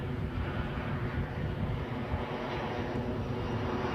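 Boeing 737-800 arriving at Edinburgh Airport from Amsterdam, a muffled, distant low engine rumble holding steady throughout at a fairly quiet level.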